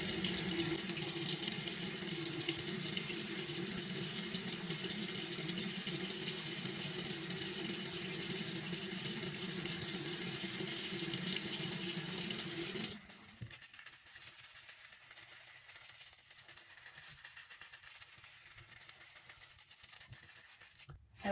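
Water runs steadily from a bathroom tap into a sink during face washing, a loud continuous splashing rush that cuts off abruptly partway through, leaving quieter room noise.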